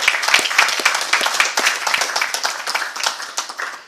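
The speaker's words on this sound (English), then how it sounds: "So can we give a very hearty clap" A gathering at an education event with schoolchildren and an education minister breaks into brisk audience clapping. Many sharp, close hand claps pile up into a lively burst that thins slightly toward the end.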